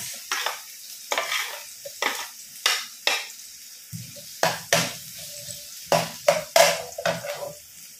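Onions being sautéed in a pan, with a quiet sizzle under repeated rhythmic scrapes and knocks as a spoon stirs against the pan, roughly one stroke every half second, close and clear with no talk.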